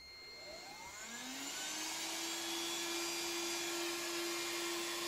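A HOME-JEBO cordless vacuum cleaner starts up with a rising whine that settles into a steady, close, continuous motor hum with a high-pitched tonal whistle, running alone without talk.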